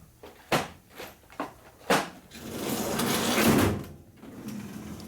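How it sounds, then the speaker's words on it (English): Items being put back into a workbench drawer during a 1961 Harley-Davidson Sportster XLCH transmission rebuild: several quick, separate knocks and clunks, then a longer sliding rumble as the drawer moves, all close and without talk. "Put these back in the drawer."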